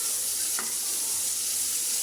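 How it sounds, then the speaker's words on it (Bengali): Onions frying in a pan for a Bengali potato and meat curry, giving a steady close hiss and sizzle with one brief clink partway through. "আলুটা রান্না করার জন্য পেঁয়াজটা ভেজে নিচ্ছি"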